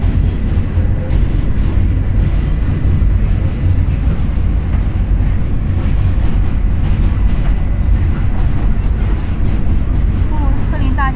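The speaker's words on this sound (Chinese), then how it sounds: "现在我们的火车呢就在开往曼哈顿岛的方向。" A New York subway train crosses the Brooklyn Bridge toward Manhattan, its loud, continuous rumble and rattle filling the ride while a voice talks over it.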